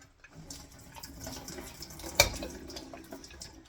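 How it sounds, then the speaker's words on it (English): Liquid poured out from a fish fillet, a soft trickling splash with a single sharp splatter midway, close and quiet, no talking. "So you pour out all the liquid"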